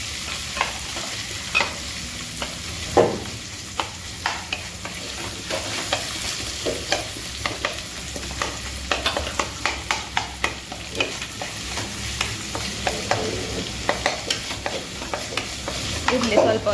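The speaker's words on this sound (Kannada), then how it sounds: "ಈರುಳ್ಳಿ ಹಾಕಿ ಚೆನ್ನಾಗಿ ಫ್ರೈ ಮಾಡಬೇಕು." Onions frying in a pan for a chicken heart, giblet and liver gravy, with a steady sizzle broken by frequent scraping clicks of a spoon stirring, close and continuous, no talk.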